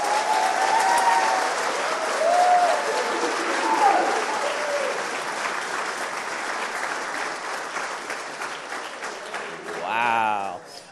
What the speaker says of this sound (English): Let's give a big round of applause for all the guys from Naughty Dog.